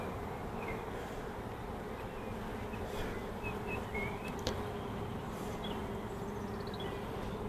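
A dense, steady drone of honey bees buzzing on a hive frame fills the whole stretch, with occasional faint chirps above it.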